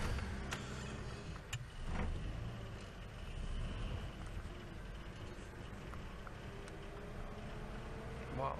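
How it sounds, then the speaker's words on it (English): A car drives around at night, a low, muffled engine and road rumble heard from inside at a modest level, with faint rattles and clicks over it. "I'm going to drive around quickly"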